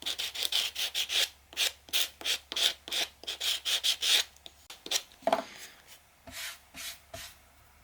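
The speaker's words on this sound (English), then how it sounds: "take a sanding block or a piece of sandpaper and just kind of go around the edges and get any" Sandpaper or a sanding block rubbing around the edges of a decoupage Christmas ornament, a rapid series of close, rhythmic scratchy strokes, then a few slower, scattered rubs and taps.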